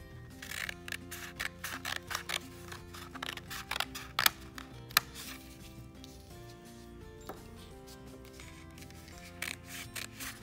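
Scissors snipping through paper in quick bursts of sharp cuts with short pauses between, close up and with no talking.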